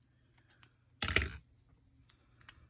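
Scissors snip through card while cutting it into small pieces for snowflake cards, a single loud crunchy cut lasting about half a second, close up, with faint ticks and clicks before and after.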